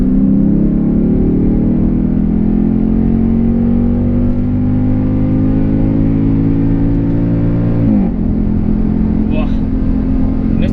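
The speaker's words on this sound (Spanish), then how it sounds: "voy a acelerarlo un poco para que lo escuchéis ahora cuando salga de esta curva, pero suena increíble" A Mercedes-AMG SLK's V8 engine, fitted with modified rear mufflers, revs and accelerates out of a curve, its deep growl climbing steadily in pitch for several seconds before a gear change drops it back down.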